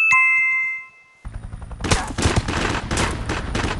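Gunfire in the Knives Out battle royale game right after a floating gun is grabbed: a few metallic dings, then a sudden dense burst of loud, rapid shots that keeps rattling to the end.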